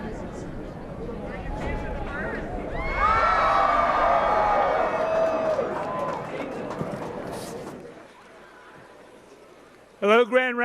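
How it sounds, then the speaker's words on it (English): A large crowd at a campaign rally cheers and whoops, swelling into a loud roar of many voices before fading, followed by a single person beginning to speak. "Wow, what a crowd."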